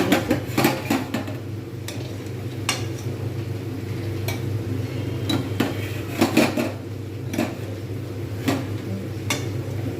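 A utensil stirs roasted rice in a pan for making laddu, producing irregular scraping and metallic clinks against the cookware over a low steady hum, with no talking.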